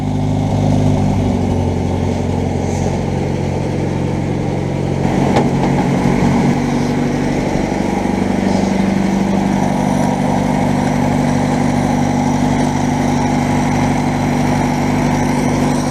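A Land Rover Series 2a 88 engine runs steadily at close range, a smooth continuous idle with a low rumble and a brief knock partway through, and no talking.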